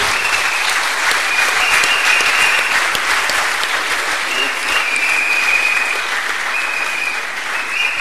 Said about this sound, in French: je demanderai à l'Assemblée de vous applaudir pour vous féliciter